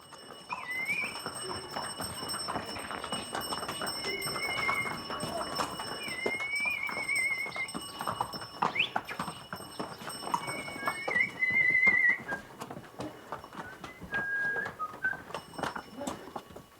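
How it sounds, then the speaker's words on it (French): Horses in the Himalayan Mustang region plod with a steady clip-clop of hooves, broken by occasional whinnies, over a continuous outdoor background with thin high whistling tones. "Lui et ses chevaux vont maintenant se reposer"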